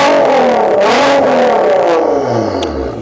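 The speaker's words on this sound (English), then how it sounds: "I want to hear what 750 brake horsepower sounds like." Nissan GT-R with about 750 brake horsepower revving loudly up close, its engine note climbing and falling in hard sweeps with a clattering mechanical edge and no talk over it.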